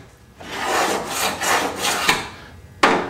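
Modified screwdriver with a dovetail-cut tip dragged along the dovetail track of a CS-1 sifter deck, scraping out old glue and gasket in long rasping strokes, close and steady, ending with a sharp scrape.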